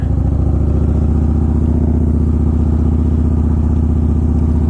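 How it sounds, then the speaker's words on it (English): A Yamaha Warrior cruiser with a 102-cubic-inch engine idles loud and close, its low, lumpy exhaust pulses thumping in a steady, even rhythm with no talking over it. "Bike runs good. It's got plenty of power."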